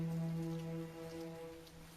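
Steady rain falls in a soft continuous hiss, with a low tonal hum underneath and no voices.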